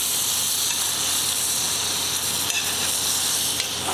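Pancake batter sizzles steadily in a hot pan, a close, even frying hiss running throughout without any talking.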